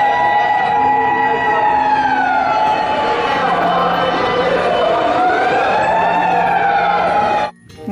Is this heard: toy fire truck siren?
yes